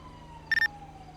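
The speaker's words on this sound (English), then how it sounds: "I hear sirens, so I think my backup unit's coming." Police sirens from an approaching backup unit in GTA 5 sound faintly, with a brief electronic chirping burst over a low steady drone and a slowly falling distant wail.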